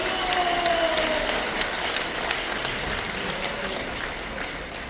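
An audience at a lecture event claps steadily at moderate volume, a dense, even applause that slowly tapers over a few seconds.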